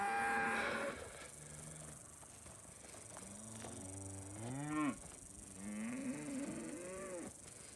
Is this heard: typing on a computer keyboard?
no